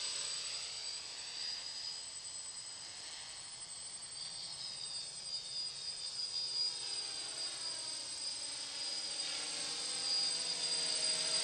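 A DJI F550 hexacopter drone hovers steadily with a constant high whine and hiss from its spinning propellers, moderately close and alone, with slight shifts in pitch as it holds position.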